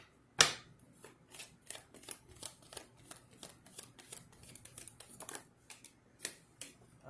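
Tarot cards being shuffled by hand, quick soft riffling and flicking bursts repeating in an irregular rhythm, close and faint in a quiet room, with a sharper snap at the start.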